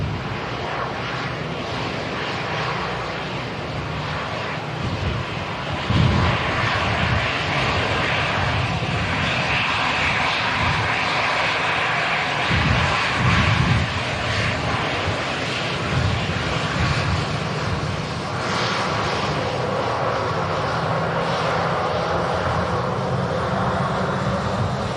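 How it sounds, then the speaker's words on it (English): An EasyJet Airbus A320 taxis at Manchester Airport on a windy day, its jet engines producing a steady, broadband roar that holds constant for the whole stretch with slight swells and some wind buffeting. "EasyJet's A320 just taxiing in here"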